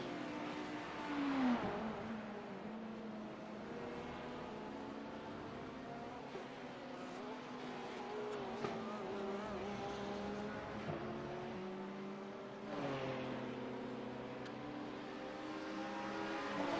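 Race cars in iRacing's virtual Sebring endurance race, a ten-hour event, give a steady, loud engine drone with shifting tones, several cars revving and passing throughout without commentary.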